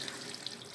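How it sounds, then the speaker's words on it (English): Soaking water is poured off mung beans, a very short, soft, steady splashing run of water like a tap into a sink. "I'm going to pour away the water which I have soaked the mung bean."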